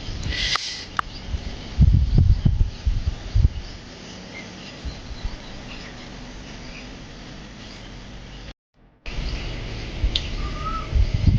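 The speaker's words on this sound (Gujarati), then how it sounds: "મોરના ટહુકાનો અવાજ આવી રહ્યો છે" Peacock calls ring out during rain beside the Dwarkadhish temple in Dwarka, a few sharp loud cries early on over a steady hiss of rainfall, with quieter calls later.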